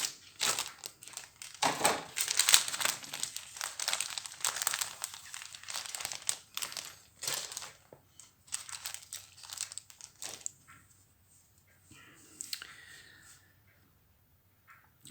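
Clear plastic bags holding parts of an Academy 1/72 Messerschmitt Me262 model kit crinkle and crackle up close in loud, uneven bursts, fading to occasional softer rustles toward the end, with no talking.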